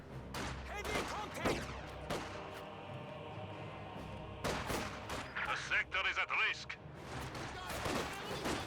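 Grenadiers firing on Conscripts in Company of Heroes 2: repeated rifle and machine-gun bursts with heavier booms, dense and busy throughout, with someone commentating over the battle.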